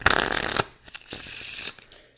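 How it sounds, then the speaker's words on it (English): Two quick bursts of a deck of playing cards being riffled during a card trick, a dense fluttering rush, then a brief pause and a second riffle, close up with no talking. "shuffle,"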